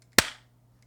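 A single sharp hand clap, loud and close, with a short ringing decay and then quiet.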